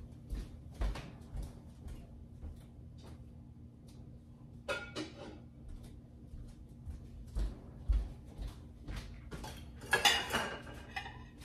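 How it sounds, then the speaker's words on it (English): Dishes and cutlery being put away in a home kitchen: scattered clinks and clatters of utensils and plates, with sharper clusters of metallic rattling and clanking near the end, over a quiet room hum. "I'm gonna put the rest of the dishes away"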